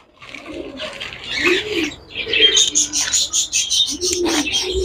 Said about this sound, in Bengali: এগুলো ফিন্স পাখি আছে উপরে উপরে লাভবার্ড আছে